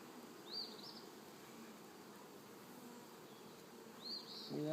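Honeybees at an opened hive make a soft, steady buzzing, and close fly-bys of single bees rise above it twice. The sound is quiet, with light handling noise at the end.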